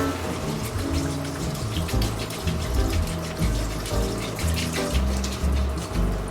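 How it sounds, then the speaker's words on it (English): Chicken broth pours steadily into a pot with a continuous splashing gurgle, close by and fairly loud, with no talking. "now I'm going to add in a whole quart of chicken broth"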